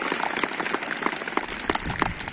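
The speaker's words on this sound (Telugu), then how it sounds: "ఒకసారి గట్టిగా క్లాప్స్ కొట్టండి" Loud, close crowd clapping at a school gathering for a student who hopes to become an engineer, crisp individual claps standing out within a busy, rain-like patter.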